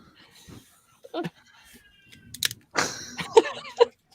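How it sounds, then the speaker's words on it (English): A cat yowls in drawn-out, wavering cries that rise and fall, preceded by a few short scattered noises. "It sounded like a cat caterwauling."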